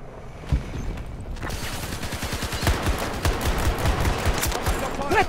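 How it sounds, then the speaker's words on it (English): Rattling rapid gunfire from a firefight in the shooter Battlefield 2042, a fast, even stream of close shots that starts after a short quiet moment and continues to the end. "They're shooting at me."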